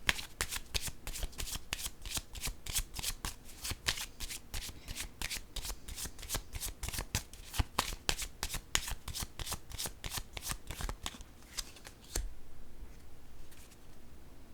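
A deck of playing cards is shuffled over and over in a fast, crisp riffling rhythm for about twelve seconds, close to the microphone, then stops and leaves quiet room tone.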